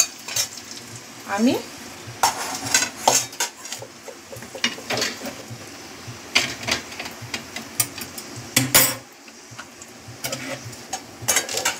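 Cashews and raisins drop into a pot of payesh and are stirred in, with repeated close scraping and clinking of a spoon against the metal pot under a soft bubbling sizzle, and a brief word spoken.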